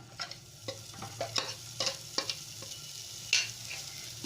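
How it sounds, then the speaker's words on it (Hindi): Homemade mawa roasting in a pan for sesame-mawa laddus, a quiet low sizzle broken by repeated scraping strokes of a spatula stirring it, close and without voices. "इसी पैन में हम मावा को भून लेंगे।"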